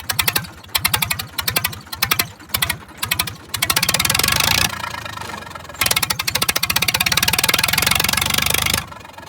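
Tractor engine with the silencer removed, revved hard: a loud, raw, rapid staccato exhaust chatter rising into sustained roaring bursts, dropping back briefly to a knocking idle between revs, close up.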